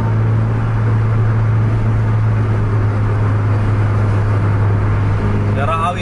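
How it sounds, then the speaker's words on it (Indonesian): Buses driving in dense road traffic, heard as a loud, continuous engine drone with a steady low hum that holds unchanged throughout. "Masih padat kendaraan dari arah berlawanan."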